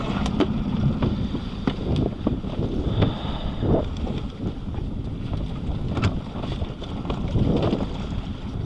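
Wind blows hard across open water on a fishing trip by boat, a steady roaring buffet against the microphone that rises and falls in gusts with no speech.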